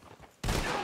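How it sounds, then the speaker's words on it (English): Gunfire in the Red Dead Redemption 2 video game: after a quiet lead-in, a sudden loud burst of shots starts and holds steady to the end. "they're shooting at you now?"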